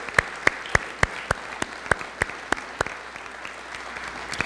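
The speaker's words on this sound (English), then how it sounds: "Let's please give her a round of applause." Sparse clapping at a university honors convocation for an absent award recipient: a dozen or so distinct, evenly spaced handclaps ringing out in a quiet hall, clearly separate rather than a dense ovation.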